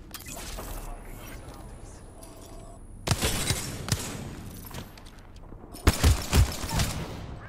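Wingman pistol fire in an Apex Legends Winter Express match, sharp loud shots in two clustered bursts with quieter game sounds between them.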